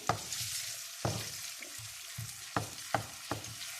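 Ingredients for chicken karahi brown in a pan, with a steady sizzle broken by several distinct stirring scrapes and clanks in an irregular rhythm, close and clear with no talk.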